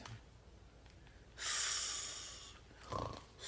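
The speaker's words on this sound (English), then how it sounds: "Snort." A sleeping grandfather lets out a single loud nasal snort, a harsh rasping burst lasting about a second, followed by a shorter breathy snuffle in an otherwise quiet room.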